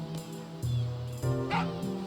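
A sniffer dog in Final Fantasy VIII barks in short, bright yips, three or four sharp barks spaced across the moment over steady game music.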